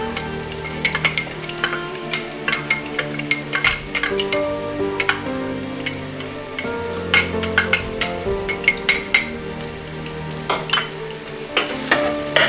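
Garlic sizzles in a pan with eggplant while a utensil stirs, giving repeated scraping clinks over a steady frying hiss, close up.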